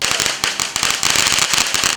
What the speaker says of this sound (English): Lighting fireworks may seem like fun and games